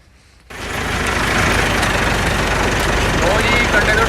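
An old-model tractor engine kicks in after a brief quiet moment and settles into a loud, steady, close rumbling idle that runs unbroken to the end.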